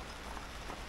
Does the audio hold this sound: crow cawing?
no